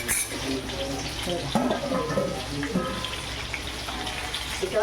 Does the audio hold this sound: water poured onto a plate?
yes